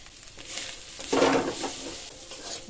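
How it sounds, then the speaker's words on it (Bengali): Chicken filling with garam masala and chopped capsicum being stirred in a hot pan, giving a steady close sizzle with scraping stir strokes that swell briefly midway. "গরম মশলা দিয়ে আর ক্যাপসিকাম দিয়ে আরো 1 মিনিট একটু রান্না করে নেব"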